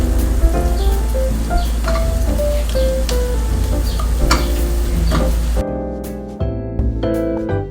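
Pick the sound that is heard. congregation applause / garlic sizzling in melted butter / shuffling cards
garlic sizzling in melted butter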